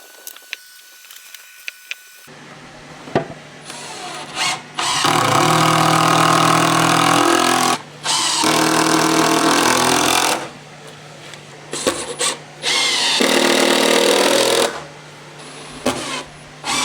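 A hole saw on a drill cuts through plywood for mounting an electrical panel: two long, loud whirring bursts of grinding at a steady pitch, with short drill revs and quiet pauses between them.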